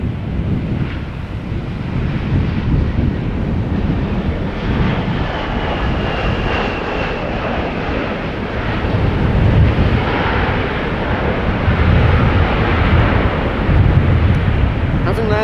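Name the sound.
Vueling Airbus A320 arriving from Malaga, landing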